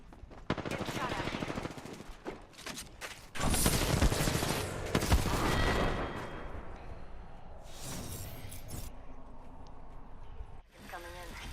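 Heavy gunfire from a video game, with bursts of automatic fire and dense shooting that swell loudest in the middle stretch and then thin out, while voices talk over the action.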